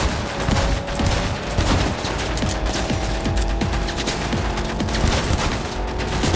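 The player's ranged weapons fire in Cyberpunk 2077 in loud, steady rapid bursts, a continuous volley of shots with dull thumps throughout and no talking.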